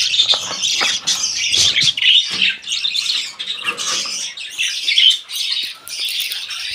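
Yellow breeding birds in cages chirp and tweet nearby in a busy overlapping chorus, with sharp squawks and bursts of calls throughout and no voices.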